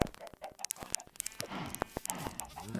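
Several Minecraft chickens cluck in quick, uneven bursts, with sharp clicks and pecking noises scattered throughout, moderately close.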